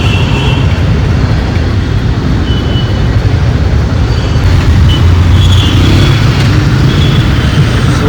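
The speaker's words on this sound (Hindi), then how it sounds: "Slow moving traffic." Slow-moving traffic on a rough, dirty road in Bangalore, a loud constant low rumble of engines with passing vehicles swelling and fading nearby, no voices.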